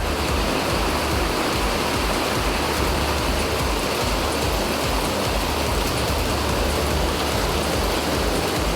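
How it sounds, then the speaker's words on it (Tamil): Heavy rain pouring in Tamil Nadu, a dense, loud, unbroken roar of falling water that holds steady throughout with no voices. "1 மணி நேரத்திற்கு மேலாக கனமழை கொட்டி தீர்த்தது"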